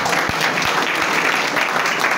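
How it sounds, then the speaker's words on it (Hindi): Loud, dense applause from a church congregation during a sermon, continuous clapping filling the whole short stretch with no break. "जोरदार ताली"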